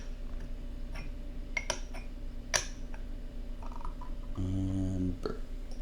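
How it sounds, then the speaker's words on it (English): A single low, throaty burp lasting under a second, rising out of steady background hiss and faint clinks during a ripe pu'erh tea tasting session indoors. "And burp."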